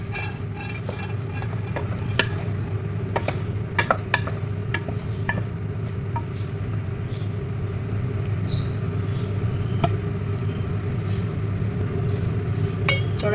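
A pot of chicken curry being stirred, with steady clinks and scrapes of a spoon against the metal over a constant simmering hiss, close and continuous with no talking.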